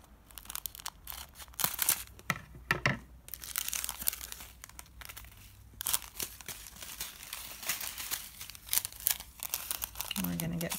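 A plastic bag of diamond painting jewels is cut open and handled, giving close, loud crinkling and rustling in repeated bursts, with talking over it.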